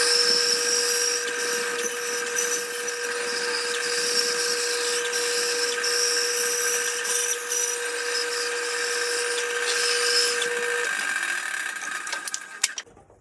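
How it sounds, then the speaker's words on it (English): A bandsaw steadily cuts the outline of a walnut log blank, a continuous whining hum with a high, buzzy edge that runs for about eleven seconds before the tone drops away near the end. "we are at the bandsaw, and we have this walnut log that I have cut up on the chainsaw"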